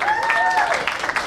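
Brief burst of loud clapping from an audience at a sports meet prize ceremony, dense and continuous, with a voice and a sustained tone sounding over it.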